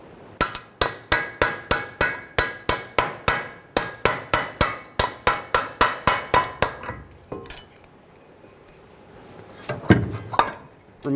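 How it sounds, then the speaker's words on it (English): Sharp metallic hammer blows on a punch ring out in a steady rhythm, around twenty strikes in quick succession, driving a CV axle from a 2003-2008 Honda Pilot hub, then a pause and a few scattered clanks. "I'm going to use a punch and a hammer to help me push this axle out of the hub."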